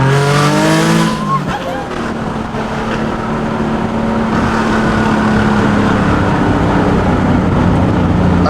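A turbocharged Nissan 370Z accelerates hard in second gear, its engine rising loudly in a sustained roar close up, with tire and road noise and voices in the car briefly at the start.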